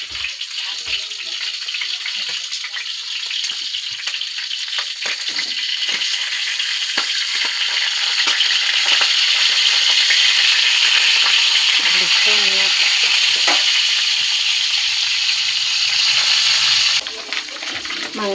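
Food frying in a pan, with a steady bright hiss and crackle that runs nearly unbroken for the whole stretch, fairly loud and close.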